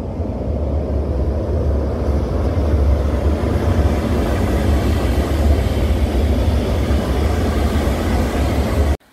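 A Gyeongchun Line train passes near the Wangsuk Stream, a loud, steady broadband roar of rolling wheels that holds for several seconds, then cuts off abruptly.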